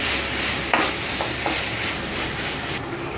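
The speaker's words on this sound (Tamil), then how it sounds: "ஒரு ரெண்டு நிமிஷம் அந்த உருளைக்கிழங்கு வறுத்துக்கலாம்" Potatoes fry in a pan for a roadside-style idli kuruma, a steady hiss of sizzling oil broken by a few quick stirring scrapes and clicks.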